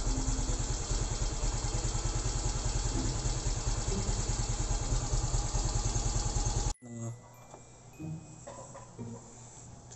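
A Yamaha Mio Soul i 125 scooter engine, air-cooled, revs loud and steady at close range for several seconds, then cuts off abruptly, leaving quiet background clatter.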